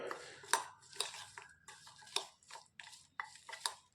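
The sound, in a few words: mixing peanuts with lemon juice and spices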